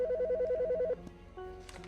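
A phone rings in the Autopsy Simulator video game, a rapid warbling electronic trill for about a second before cutting off, followed by quieter game sounds and a low tone.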